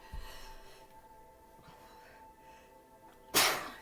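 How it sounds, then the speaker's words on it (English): A single sharp sneeze bursts out near the end, loud and close, after a few seconds of quiet room tone. "I felt that sneeze coming on"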